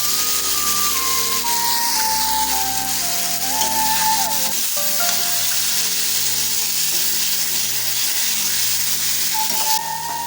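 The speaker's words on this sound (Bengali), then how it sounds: "দেখতে সাইডে তেল বেরোচ্ছে তাহলে তখন বুঝতে পারবে যে আমাদের মাটনটা কষানো কমপ্লিট হয়েছে" Mutton curry frying in oil in a large kadai, a steady close sizzle running throughout beneath faint tonal background music, with no one talking.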